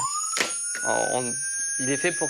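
An electronic alarm rings steadily from a nurse's emergency phone in a psychiatric emergency ward, a continuous high tone running through the whole stretch while someone speaks over it nearby.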